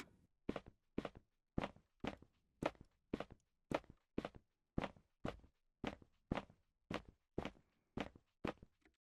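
A footsteps sound effect playing back in audio software: a steady, evenly spaced series of about seventeen crisp, close steps with nothing else in the background.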